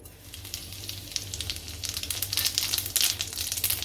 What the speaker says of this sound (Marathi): फोडणी तडतडली का ठेचा घालते